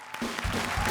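A studio audience at a comedy show breaks into applause, a brief dense burst of clapping that swells quickly and holds loud to the end.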